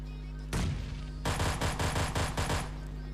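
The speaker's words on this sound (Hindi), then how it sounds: "तो यहाँ पे भाई पिस्टल से मैं एक बंदा नॉक कर देता हूँ" Gunfire from a pistol in a mobile shooter game, first a single loud report, then after a short pause a rapid burst of about seven close shots.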